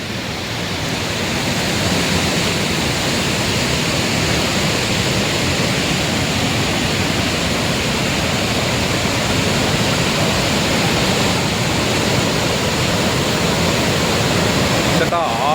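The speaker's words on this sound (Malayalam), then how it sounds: "ഇവിടെ ഒരു വെള്ളച്ചാട്ടം കണ്ടപ്പോൾ നിർത്തിയതാട്ടോ ഒരു അടിപൊളി വെള്ളച്ചാട്ടം" A roadside waterfall on the route to Munnar in Kerala roars as a loud, continuous broadband rush of falling water, close and steady throughout with no break.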